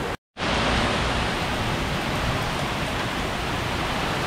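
Heavy rain from a fast-moving storm pours down as a dense, steady hiss, loud and close after a brief cut at the start, with no voices.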